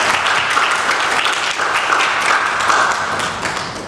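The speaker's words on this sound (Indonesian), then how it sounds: "Tepuk tangannya." A full, loud round of audience applause greeting a CEO invited to speak at an Indonesian entrepreneurship talk, a thick, continuous clatter of many hands.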